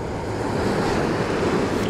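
Ocean waves wash onto a beach at Stumps Pass after Hurricane Ian, a loud, continuous broadband roar of surf mixed with wind buffeting the microphone, with no voices.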